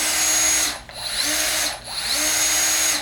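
Festool drill fitted with an eccentric drill chuck (EX UNI) running in a workshop, a loud steady whine that briefly dips twice as the motor slows and spins back up.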